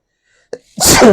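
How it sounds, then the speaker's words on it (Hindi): A single sharp human sneeze bursts out close and loud, preceded by a brief faint catch of breath, in a quiet classroom lecture setting. "छींक आ गई मुझे"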